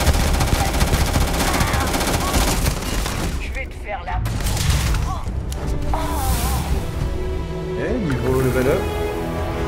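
Gunfire from the video game Starfield, dense bursts of shots running through most of the stretch with game music and effects, while someone talks over it.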